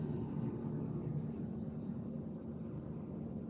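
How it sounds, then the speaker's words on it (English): A Robinson R44 helicopter passing overhead gives off a steady low droning rotor and engine rumble, somewhat distant and faint, holding constant with a slight fade toward the end. "Oh, that's a Robinson 44."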